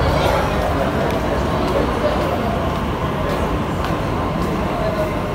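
Metro train and crowd noise at a packed underground station, a steady loud rumble with busy babble throughout and no clear individual voices.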